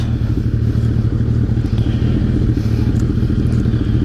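A Suzuki Hayabusa sport motorcycle engine drones steadily and loudly at close range, a deep continuous rumble with slight clatter and no talking over it.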